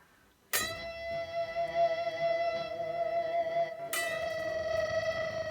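An electric guitar tone, played through a Boss SY-1000, swells in with its pick attack missing, producing a sustained, echoing reversed-delay wash; a second chord enters abruptly partway through, with no voices.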